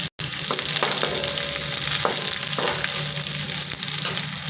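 Cumin, garlic and onion pieces fry in a pan with a loud, continuous close sizzle, broken by a few light stirring scrapes.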